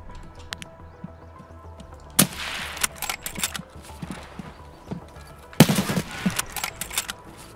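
Gunfire in the shooter game Escape from Tarkov during a forest fight: two sharp, loud bursts of shots several seconds apart, with quieter footstep-like taps and scattered clicks between them.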